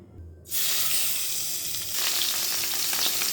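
Pomfret fish dropped into hot oil in a home kitchen bursts into a loud, steady sizzle after a brief quiet start, crackling continuously and swelling slightly midway with no voices.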